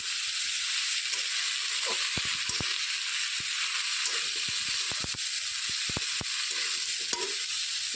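Sliced banana flower frying in a pan with salt, giving a steady, close sizzling hiss throughout, broken by scattered sharp crackles and pops, with no talk.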